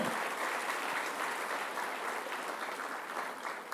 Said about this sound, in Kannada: ಒಂದ್ಸಲ ಜೋರ ಚಪ್ಪಾಳೆ ರಾಮಣ್ಣ ಅವ್ರಿಗೆ ಬರಲಿ.